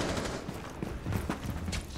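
Gunfire in a video game: a few sharp shots rise out of a dense, steady background clatter, fairly close and irregularly spaced, with no speech.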